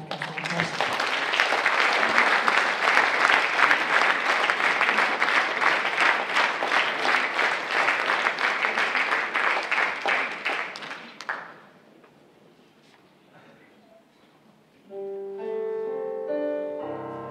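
An audience welcomes a gospel choir with loud, sustained applause lasting about eleven seconds before fading into a hush, after which musical tones begin.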